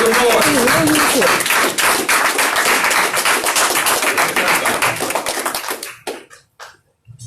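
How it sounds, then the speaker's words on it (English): An audience gives a strong round of applause at a Garvey Day community gathering, dense loud clapping with scattered cheers and shouts that fades out over the last second. "Y'all welcome him with a strong round of applause"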